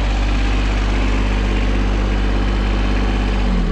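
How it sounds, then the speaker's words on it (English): A John Deere tractor engine idles while warming up on an early morning after the first snow, a steady, loud low rumble that holds constant throughout with no talk. "We got the John Deere warming up."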